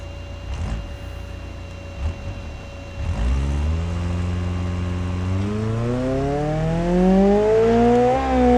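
In BeamNG Drive, an Ibishu Miramar strains to tow an empty 40-foot bumper-pull trailer: after a few low thumps, the engine note rises steadily as it revs and accelerates, close and loud, shifting pitch near the end.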